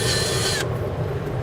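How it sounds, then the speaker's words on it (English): A power drill with a 3/8 bit whirs loud and close as it marks a hole centre on a bracket on a 2016 Ford truck, then cuts off sharply partway, leaving a steady low hum. "I'm going to use a 3/8 drill bit, and I'm going to mark the center of that hole"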